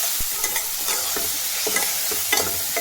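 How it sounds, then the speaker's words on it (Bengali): Vegetables frying in a pan with salt are stirred, with close, scraping spoon strokes and soft knocks coming in uneven bursts over a steady background sizzle. "একটু একটুখানি নেড়ে দিলাম নুন দেওয়া অবস্থায়।"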